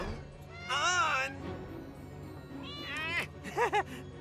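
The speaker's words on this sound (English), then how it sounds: "I've come to save this kitty cat." Cartoon cat meows from a children's animated superhero show, a series of drawn-out, wavering mewls in three bursts, the last two short and close together, over quiet background music.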